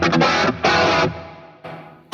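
An electric guitar plays through the dirty channel of a Fractal Audio 80s preset, giving distorted chords in short bursts with gaps, a ringing decay, and a final stab.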